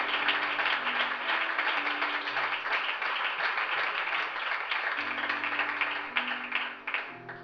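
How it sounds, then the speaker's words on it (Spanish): Church congregation giving loud, sustained applause, a dense wall of clapping under a steady droning tone, tapering slightly near the end. "Dale un fuerte aplauso al Señor"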